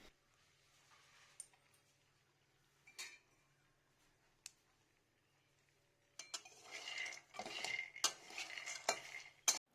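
Peanuts dry-roasting in a pan on a gas flame, stirred with a metal spoon; quiet scraping early, then a busier stretch of clinking, rattling and scraping against the pan in the final seconds.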